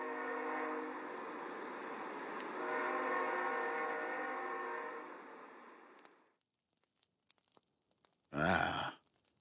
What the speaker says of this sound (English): sounds like the morning train arrived just in time for the end of our tale